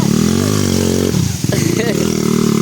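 KTM 300 enduro dirt bike climbing a steep trail up from a waterfall, its engine droning loudly and steadily, dipping briefly then revving back up, close by, with people talking over it.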